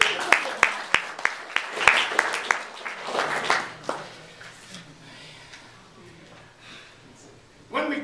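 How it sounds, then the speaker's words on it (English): Applause from an audience at a spiritual talk, starting as scattered sharp claps that thicken into a burst, then fading into quieter room noise before a brief swell at the end. "Clap for this guy."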